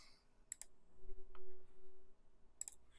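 Crisp computer mouse clicks in a quiet room: a quick pair of clicks early on, a faint single click midway, and another quick pair near the end, with soft low background hum between them.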